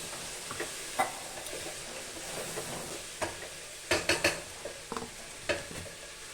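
Tempering spices frying in a pan for a field bean dal curry, a steady hiss with repeated sharp spatula taps and stirring scrapes clustered toward the end, close and without talk.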